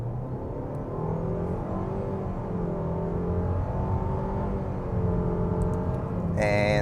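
2024 Mitsubishi Outlander SE accelerating from a stop, its engine note rising steadily as a low in-cabin hum and whir, with a brief click near the end.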